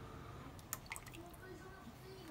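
Water runs and drips into a plastic microwave spaghetti maker from a dollar store, a faint trickle with a few small splashes over quiet room noise.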